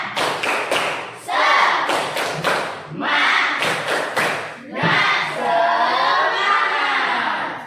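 A group performs a rhythmic clapping chant, with bursts of sharp synchronized claps and thumps alternating with shouted group chanting, loud and close, in repeated patterns.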